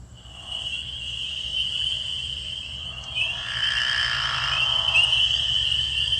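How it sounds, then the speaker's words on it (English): A recorded chorus of pickerel frogs giving long snoring trills mixed with the high piping peeps of spring peepers, steady and continuous, calls overlapping and building in the second half. "So we're going to play the call of the pickerel frog."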